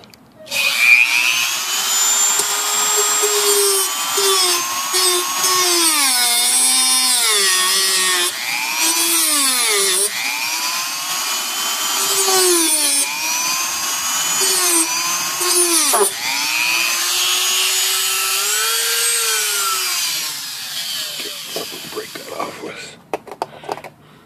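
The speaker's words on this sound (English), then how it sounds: "so just make short work of that with the Dremel." A Dremel rotary tool cuts through a protruding screw on a plastic typewriter bottom case: a loud, steady high-pitched whine that rises and dips as the bit bites into the metal, running continuously up close.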